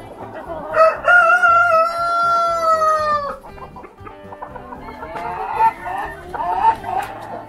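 A white rooster crows loudly and close by with a long, drawn-out call, followed by hens clucking around it in a farmyard coop.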